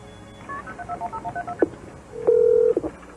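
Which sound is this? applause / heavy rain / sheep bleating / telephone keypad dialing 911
telephone keypad dialing 911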